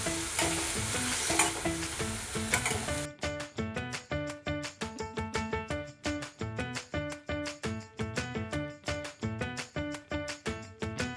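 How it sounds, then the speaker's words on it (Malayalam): Coriander leaves and spices sautéed for dal fry, a loud continuous sizzle at first, then rhythmic stirring strokes over a bright, tonal backdrop that sounds like music. No one speaks. "ഇതെല്ലാം കൂടി ഇട്ട് നന്നായിട്ട് വഴറ്റുക"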